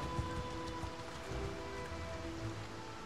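Steady rain falling in the medieval game Mount & Blade 2 Bannerlord, a constant soft hiss of drops on the ground with low rumbling underneath and no voices.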